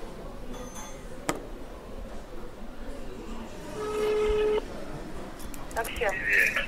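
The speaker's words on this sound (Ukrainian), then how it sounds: "Телефонуємо в службу таксі 659 44." Telephone dialing tones while calling a taxi service: a short tone sounds amid background noise and murmuring voices, followed by a cluster of beeps toward the end.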